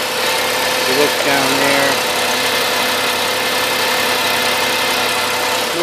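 A 2004 Ford Taurus 3.0 liter engine idles steadily and close in a garage while a person speaks briefly over the even mechanical hum.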